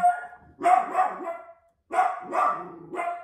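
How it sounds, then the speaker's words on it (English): A dog indoors barks repeatedly at someone at the front door, loud close barks in two clusters separated by a short pause. "somebody just went to my front door, so my dog is barking"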